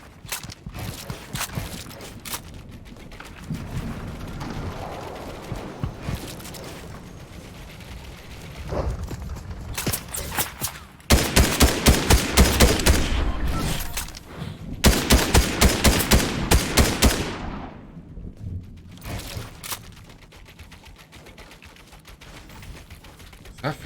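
Video game gunfire during a Fortnite-style solo match: scattered single shots and rapid automatic bursts, with dense loud volleys in the middle and fainter clatter and footsteps around them.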